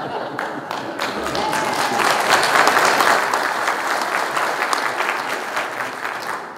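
A church congregation breaks into lively applause, dense and sustained clapping from many people that swells in the middle and eases slightly toward the end, with faint murmuring underneath.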